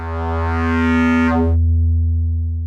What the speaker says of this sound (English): This is what frequency modulated wavefolding sounds like.